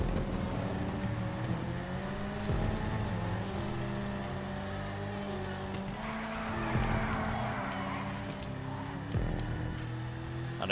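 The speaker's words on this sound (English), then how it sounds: "I know you heard that drift." A car drifts in Grand Theft Auto V, its engine droning with wavering pitch and tires squealing in bursts through a long slide, loud and continuous.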